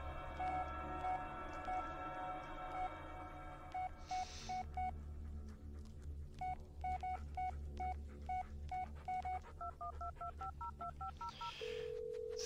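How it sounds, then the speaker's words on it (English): In the Blair Witch video game, a phone goes off with a run of repeated electronic tones and beeps in rhythmic patterns, steady and clear, over a low droning background. "My phone went off, right?"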